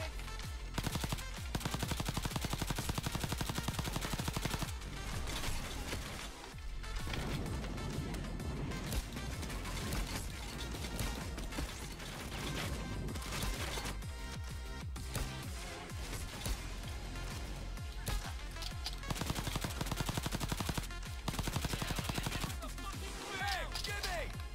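Automatic and single gunshots ring out during a loud bank heist in the Payday 2 video game, dense, sustained bursts of fire throughout, with a player's voice talking over the shooting.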